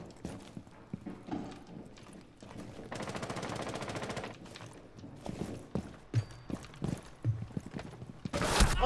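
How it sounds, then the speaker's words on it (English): Gunfire in a Rainbow Six Siege match: clusters of sharp shots scattered through the clip, with a sustained rapid burst in the middle and a loud, close final volley, over busy in-game ambience. "Oh, I'm being shot at."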